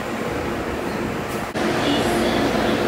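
A light rail train pulls away from the platform on a Town Transit LRT line, a steady rumble and hum at close range, briefly dipping before a swell of rolling noise as it departs.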